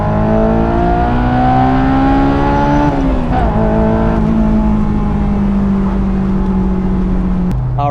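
A car accelerating hard through a quick pull, its engine note climbing steadily, dropping briefly at a gear shift, then pulling again. The loud, continuous drone is heard from inside the car.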